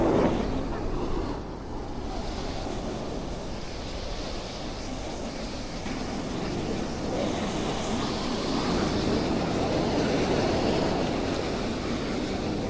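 Steady surf rolls in at a windy Wilmington beach, a continuous broadband wash of waves mixed with wind rumble on the microphone, moderately loud and even throughout with no clear speech.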